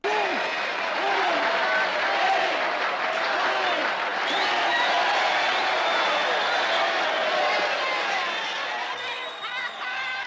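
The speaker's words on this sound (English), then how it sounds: "The crowd goes fucking wild." A film crowd at a boxing fight roars and cheers wildly after a heavyweight knockout, dense sustained cheering, whistles and shouts loud and continuous throughout, tapering slightly at the end.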